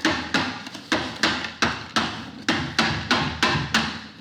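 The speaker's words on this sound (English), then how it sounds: "So we're just going to go around, chisel out the old putty." A chisel is struck again and again to knock old glazing putty out of a window frame while a pane of glass is replaced, a close, even run of about a dozen sharp taps and knocks.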